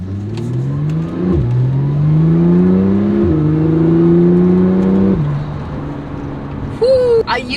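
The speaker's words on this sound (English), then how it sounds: "You cannot deny that the shifts of a PDK transmission are so friggin' good." A 2017 Porsche 911 Turbo with PDK transmission accelerating hard, engine note climbing and dropping sharply at several quick gear shifts, loud and close, with a short burst of talk at the end.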